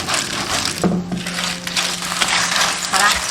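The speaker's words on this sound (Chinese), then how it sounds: "大火翻炒。" Clams and scallion pieces are tossed in a hot wok over high heat, giving a steady sizzle with metallic scraping and clattering shells throughout.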